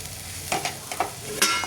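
Something being dry-roasted and stirred in a pan until it turns dry, with a steady low frying hiss and a few soft scraping strokes of a spoon against the pan, close and alone.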